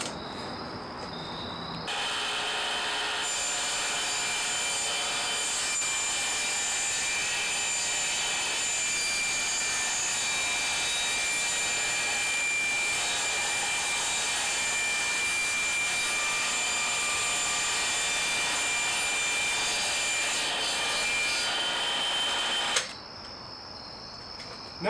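A plywood board being sawn to width for a bookcase produces a steady, continuous rasping cut that runs close and loud for about twenty seconds. The noise stops abruptly at the end.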